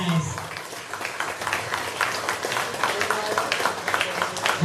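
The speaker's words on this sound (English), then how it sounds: "Massive round of applause for those guys." An audience applauds the under-80kg strongman competitors at Britain's Strongest Man: scattered, moderately loud clapping from a crowd, uneven and continuous throughout, with some background voices mixed in.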